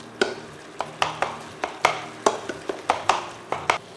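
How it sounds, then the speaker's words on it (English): A mincemeat masher pressing sardines in a pan, a steady series of about a dozen sharp clanking strikes at a brisk, slightly uneven rhythm, close and clear with no talk. "I've got this mincemeat masher that does a pretty good job"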